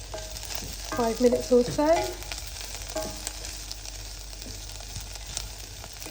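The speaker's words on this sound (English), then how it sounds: "So the veg have been sautéing for about" Vegetables sautéing in a pan before beef stock goes in for a slow-roasted pork belly dish, giving a steady low sizzle with faint stirring scrapes, while a voice speaks briefly over it near the start.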